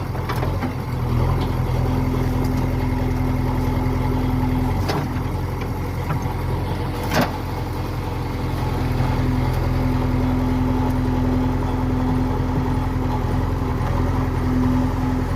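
A 2016 JCB 3DX backhoe loader runs steadily, its diesel engine giving a loud, even idling drone with a faint whine and a couple of sharp knocks, close to the microphone and without any talk.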